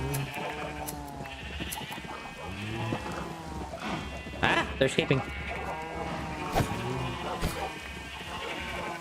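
Sheep bleat repeatedly in a Minecraft modpack game while someone talks over them, the wavering cries overlapping as he herds and shears the flock.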